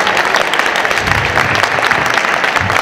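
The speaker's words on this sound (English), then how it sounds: "Let's everybody give a round of applause for these fantastic cosplayers over here." A crowd at a comic expo cosplay contest claps loudly and steadily throughout, a dense, even wash of applause with no break.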